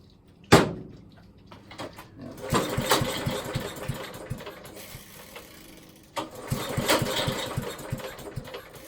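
A vintage McCulloch generator engine with a flooded carburetor is pull-started: a sharp rope yank, then a rough burst of sputtering engine noise that fades and returns with a second pull, loud and near.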